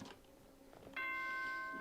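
An announcement chime from the video game Danganronpa: Trigger Happy Havoc rings out after a faint lead-in, sustained bell-like tones that hold steady and bright to the end of the short clip, with no voices.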